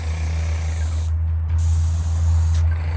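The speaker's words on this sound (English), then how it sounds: "it's finally time to paint the cabinets, and I was not about to do it with the brush and roller again, so I got myself a paint sprayer" A paint sprayer coats camper cabinets with a steady loud hiss over a low motor drone, briefly cutting out in the middle and once near the end.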